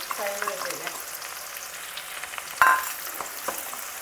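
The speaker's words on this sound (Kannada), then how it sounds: "ಸೊ ಗ್ರೌಂಡ್ನಟ್ ಆಯಿಲ್ ಆಗಿರೋದ್ರಿಂದ ಪಟ ಅಂತ ಬೇಗ ಸಿಡಿಯುತ್ತೆ" Cumin seeds splutter in hot groundnut oil in a home kitchen with a soft, steady frying crackle and a sharp pop or clatter partway through, under faint background voices.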